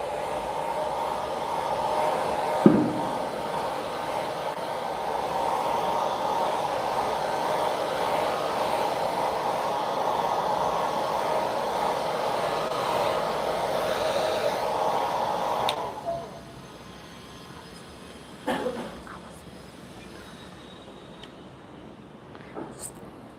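A hair dryer blows over a watercolor hummingbird painting, giving a steady, close whooshing whir for about sixteen seconds before it switches off, followed by a few faint handling knocks.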